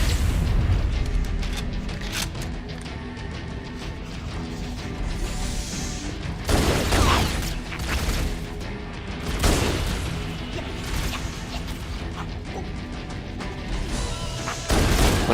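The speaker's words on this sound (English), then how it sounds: "Just grenade him, or use the rocket launcher." Grenade explosions in the Halo video game: a string of deep booms and crashes over continuous battle noise, with heavier blasts near the middle, dense and loud throughout with no speech.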